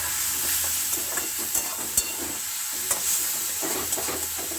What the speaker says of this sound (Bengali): মশলাটা এমনভাবে কষাবো যাতে মশলাটা পুড়ে না যায়